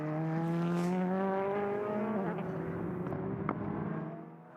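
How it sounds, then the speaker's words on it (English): A loud, sustained tyre squeal from a GT race car spinning during a race, with a strong pitched whine that wavers and drops, fading out after a few seconds. "So we heard the tyre squeal."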